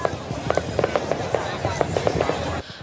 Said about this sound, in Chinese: 美国国庆日，各地放烟火庆祝